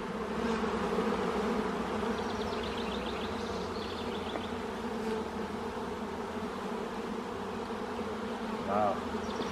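Honeybees buzz around an opened hive during a beekeeper's inspection, a dense, steady hum with layered tones that continues through the whole stretch at close range, with a few brief higher chirps over it.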